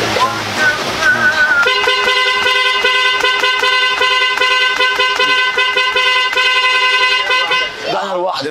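A dense chorus of many car horns blares together continuously at close range, steady sustained honking tones stacked in a loud wall of sound that cuts off near the end.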